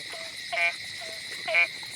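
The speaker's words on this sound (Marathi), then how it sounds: "ते आवाज केवढा येतो बघा हे बेडकांचा" Frogs croak near a water-filled path at night in Goa, with two loud rhythmic croak bursts and softer calls in between over a steady insect drone.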